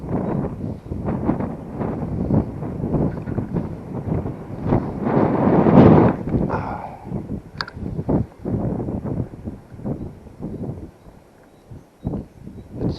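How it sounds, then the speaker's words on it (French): Wind gusts buffet the microphone outdoors in the Oise countryside, a rough rushing roar that swells to a peak midway and then eases into lighter, uneven puffs. "Ces rafales de vent par moment"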